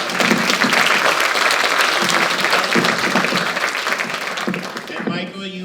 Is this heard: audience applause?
yes